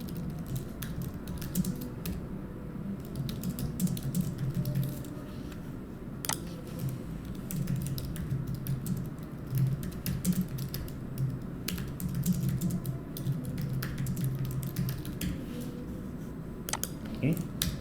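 Rapid keystrokes clatter on a computer keyboard as Python code is written, in continuous irregular bursts with sharp key clicks, close and moderately quiet, with brief talk mixed in.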